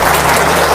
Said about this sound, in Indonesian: Tepuk tangan dulu dong buat Pak Hengki